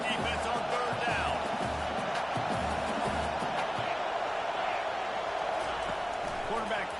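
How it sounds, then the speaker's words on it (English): A stadium crowd roars throughout a third-down defensive stand in an American football video game, a dense sustained cheer with thumping low beats, while a play-by-play commentator talks over it. "Decibels rising as the crowd gets behind this defense on third down."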